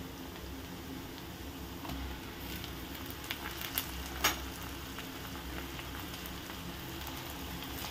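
Chopped onion sizzles steadily in a hot pan for Mumbai street-style masala pav, a continuous soft fry with a few small pops and crackles scattered through it.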